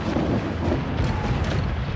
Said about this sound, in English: Oh, I got mortars! I got mortars!